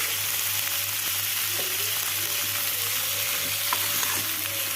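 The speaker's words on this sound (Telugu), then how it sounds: "కొంచెం మగ్గేంత వరకు మనమైతే ఫ్రై చేసుకోవాలి." Tomatoes for a tomato chutney frying in a pan, a steady close crackling sizzle with a low hum beneath and occasional light scrapes of stirring, no voices.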